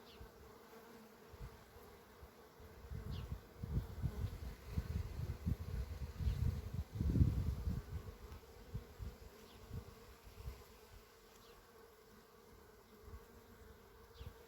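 Honeybees buzz at an open hive during an inspection, a close, dense drone that swells to its loudest midway and then eases back, with no voices.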